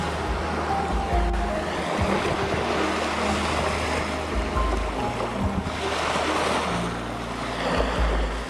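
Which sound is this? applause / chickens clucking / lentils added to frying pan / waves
waves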